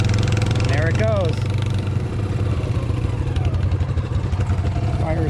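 A Yamaha Grizzly 80 ATV engine with a newly replaced ignition switch starts and settles into a steady, fairly loud idle. It runs continuously beneath someone talking.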